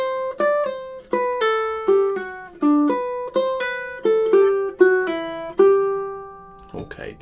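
Ukulele picking out measures 5 and 6 of the Nutcracker March: a clear, close run of eight plucked notes in a bouncy, uneven rhythm, each ringing briefly before the next, ending in a short scrape.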